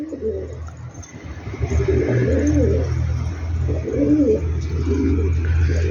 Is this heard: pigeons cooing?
yes